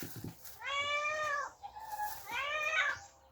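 Two drawn-out cat meows, close and fairly loud, each rising and then falling in pitch, separated by a short pause.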